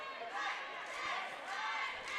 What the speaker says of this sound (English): Crowd really getting into it.